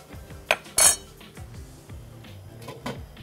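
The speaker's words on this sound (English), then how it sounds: "Give it a quick stir." Metal utensil clinking and scraping in a pot of Korean hangover soup with green onions and red pepper flakes, a few sharp clinks then soft stirring taps, close and fairly quiet.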